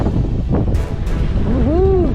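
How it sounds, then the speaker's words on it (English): Wind blowing downstream along a river beside an off-grid Colorado home, a steady, moderately loud rush buffeting the microphone, with a brief vocal whoop near the end. "Downstream wind."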